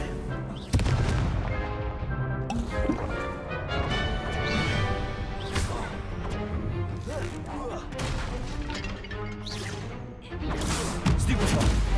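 Confringo blasting spell explosions in a Harry Potter video game: repeated loud booming blasts and crashes over a busy, dense score, with a heavy impact near the start and another burst near the end.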